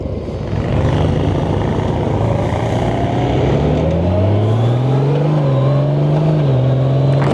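Honda Gold Wing motorcycle setting off at night, the engine droning loud and close, its tone rising steadily as it gathers speed, with wind rush over it and no talk.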